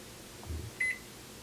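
A household fridge gives two short electronic beeps close by, after a brief low thump, in an otherwise quiet kitchen.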